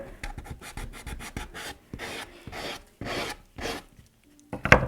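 Coarse-grit sandpaper rasping over wax-resist painted wood, a series of close, dry scraping strokes in uneven rhythm with brief pauses between passes, no voices.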